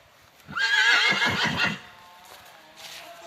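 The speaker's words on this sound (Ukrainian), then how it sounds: "Ця дівка походить по таких коні, як Володимирівська кобила і жеребець флеш, який був першерон." A single loud neigh from a Percheron horse, a shaky whinny lasting about a second, close by, followed by quieter ambient noise.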